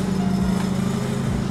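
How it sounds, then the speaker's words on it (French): A Renault Megane IV RS engine runs warm with a steady, loud, buzzing drone that holds an even pitch throughout, with no voices. "Donc là, le régime moteur augmente et les valves s'ouvrent un petit peu."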